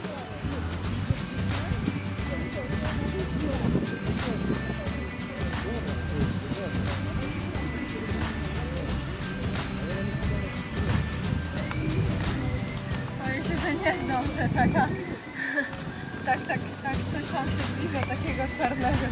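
Pony hooves clip-clop steadily on a ride after a break, mixed with busy ambient noise and people talking close by throughout.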